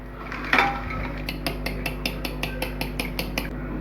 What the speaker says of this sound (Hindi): ये पहले मैं इसके अंदर ड्राई अपने मसाले ऐड करूँगी ताकि अच्छी तरह से मिक्स हो जाएं। इसे मिक्स करूँगी अच्छी तरह से।